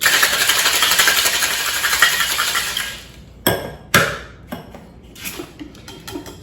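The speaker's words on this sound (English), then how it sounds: "We'll add this to our shaker of ice and give it a really good shake." Ice rattling hard in a cocktail shaker while a Southside cocktail is mixed: a dense, steady rattling shake for about three seconds that stops abruptly, followed by a few separate knocks and clinks of metal and glass.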